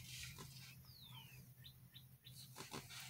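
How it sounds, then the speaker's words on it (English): A bird chirping outside, heard as a few faint, thin high chirps and a short descending whistle, distant and soft under quiet indoor room noise. "It's a bird."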